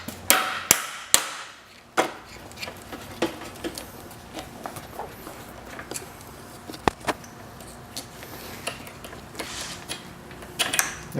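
Hammer strikes during an aluminum radiator install on an NA Mazda Miata, a few sharp loud blows at the start followed by scattered lighter taps and clicks at close range in a quiet garage.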